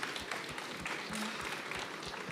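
Applause for a trophy presentation at an industry awards ceremony, a steady patter of clapping from a modest audience lasting a couple of seconds, moderately close and without talk over it.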